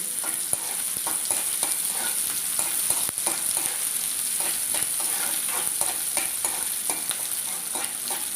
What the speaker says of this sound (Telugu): ఆనియన్ కొంచెం ఫ్రై చేసుకొని